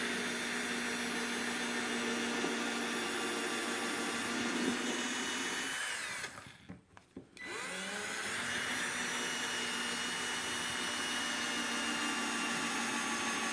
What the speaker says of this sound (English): now we're just going to drill down.